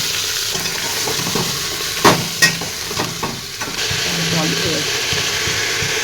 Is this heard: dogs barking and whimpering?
no